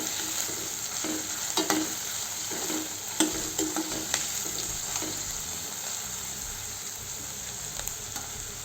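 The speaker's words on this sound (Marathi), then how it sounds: "मिरची, कमी गॅसवरच फिरवायचं।" Green chillies fry on low heat in a pan and are stirred, a steady soft sizzle running throughout with light scraping clicks of the spoon scattered through it.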